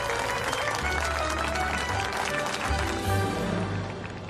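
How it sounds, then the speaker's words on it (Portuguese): Audience applause in a Brazilian comedy film as a new company president is introduced on stage, broad steady clapping from a crowd mixed with music and low rumble, sustained for several seconds. "senhoras e senhores, queiram aplaudir a nova presidente da Sex Delícia, Marion Almeida."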